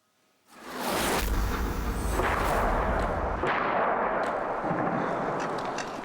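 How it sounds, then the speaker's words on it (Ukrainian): Artillery shells explode near the town of Shchastia in Luhansk region, a sudden loud blast that rolls into a long, rumbling roar with further booms layered in, dense and sustained with no voices. "Зненацька у середу, о четвертій дня, поблизу міста почали лунати вибухи."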